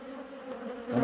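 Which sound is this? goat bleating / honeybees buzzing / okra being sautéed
honeybees buzzing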